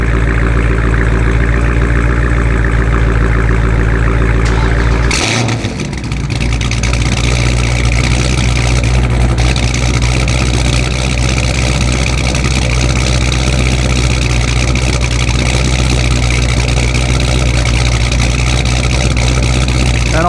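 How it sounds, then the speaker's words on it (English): A 392 Hemi V8 fires up on a warm start and settles into a loud, steady idle, a deep rumbling drone that holds unbroken after a brief dip at startup. "that's a warm start of the 392"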